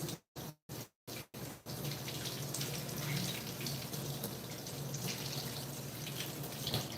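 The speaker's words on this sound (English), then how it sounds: "Give it another quick rinse." Vegetables are rinsed under a running kitchen tap: a few short bursts of water at first, then a steady, fairly loud stream splashing into the sink, with no talking.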